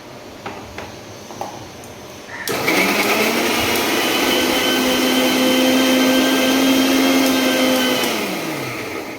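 Kitchen mixer grinder switched on to blend tomato, garlic and coriander leaves into a paste, a loud steady high whine starting abruptly after a few quiet knocks, running for about six seconds, then winding down.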